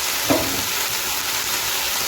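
Durung saak greens fry in a pan with a continuous, even sizzle, broken early by a single light clink of a utensil.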